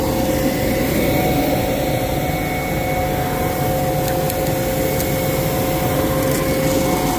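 Seed rushes through the blower hose from a seeding tank on a CCS planter, making a steady, close whooshing hiss over a low mechanical hum that runs unbroken throughout.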